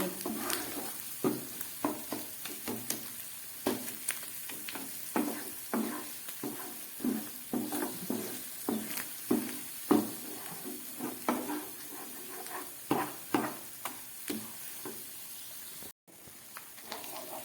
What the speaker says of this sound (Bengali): একদম গ্যাস কমিয়ে আমি মশলাগুলোকে কষিয়ে নিচ্ছি